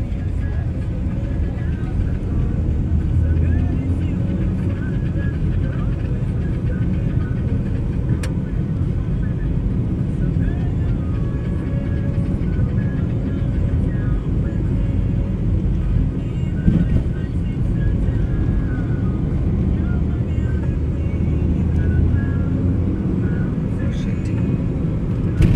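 Busy traffic rumble at Oshodi bus station in Lagos, with buses nearby: a steady, dense low roar of engines and street noise that runs without a break, with people talking over it.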